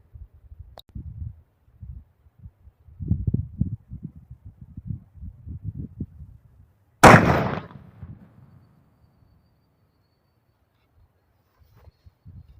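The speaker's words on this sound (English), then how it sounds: "I may just fire another one to make sure that it's shooting consistent there" A single loud, sharp report from a CVA muzzleloader rifle fired outdoors cracks near the middle, then quickly fades, with quiet murmuring talk and faint outdoor sounds around it.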